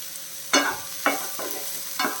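Sliced onion sautés in a pan for a drumstick-leaf dish with egg, with a soft continuous sizzle broken by three distinct scraping stirs of a spatula, close and clear, with nobody talking.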